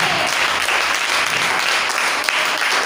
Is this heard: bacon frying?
no